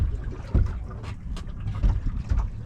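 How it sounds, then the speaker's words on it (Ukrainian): Steady outdoor wind in England rumbles and buffets against the microphone while fishing, with low gusty roaring swelling and easing throughout, and faint splashing water in the background. "вітер на даний момент більший, як призначалося, передбачилося на сьогодні."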